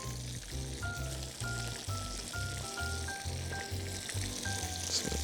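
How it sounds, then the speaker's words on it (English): Steady sizzling and crackling of panfish frying in hot oil, with a rhythmic musical tune playing over it throughout. "Oil is sizzling that fish up."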